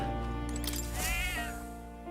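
A cat meows once in the video game Metaphor: ReFantazio, a rising and falling cry heard over a steady droning game background hum.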